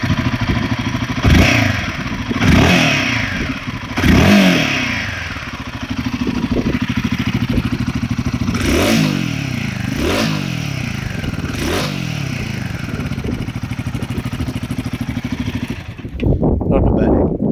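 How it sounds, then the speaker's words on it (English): A Royal Enfield Himalayan 450 with the new 450 Sherpa engine starts up, then revs repeatedly in sharp bursts before settling into a steady idle, close and loud. "now let's fire up that new 450 Sherpa engine"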